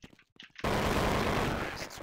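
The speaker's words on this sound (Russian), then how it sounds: "Я по выстрелам слышу просто." Rapid automatic gunfire in a shooter video game breaks out after brief talk, a dense, loud, sustained burst of shots lasting over a second before tapering off.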